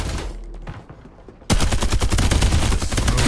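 Rapid, loud automatic gunfire from Farlight 84 starts abruptly after a quieter moment and runs on as a dense, evenly pulsing burst with no voices.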